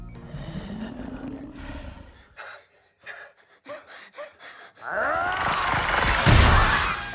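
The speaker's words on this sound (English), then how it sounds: "Pennywise begins to smash the glass and then devours the boy" In a horror film scene with a clown, a sharp gasp comes first, then choppy breathing and snorts, and finally a loud burst of shattering glass mixed with a roar as the glass is smashed.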